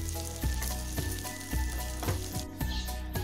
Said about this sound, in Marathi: आपले चिकन दुसऱ्या बाजूनेही छान फ्राय झाले आहे.